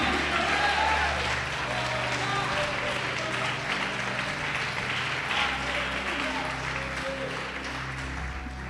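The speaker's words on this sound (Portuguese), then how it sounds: "Pode aplaudir, glorificar." Congregation applauding at a church service, a steady wash of clapping that fills the space, with a faint sustained organ or keyboard tone running underneath.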